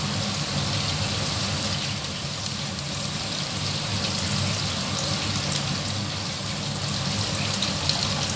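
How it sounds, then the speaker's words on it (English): Water pours into a cooking pot holding vegetables and a splash of chicken stock, making a continuous splashing gush that stays steady and close. "And now we add the water."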